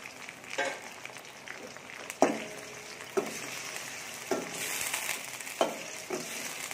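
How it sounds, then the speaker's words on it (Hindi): Beef sizzles and fries in a hot pan for beef karahi, a steady crackling hiss punctuated by several sharp stirring scrapes and clatters, close and moderately loud with no talk. "बीफ को भूनेंगे जब तक इसका कलर चेंज ना हो जाए।"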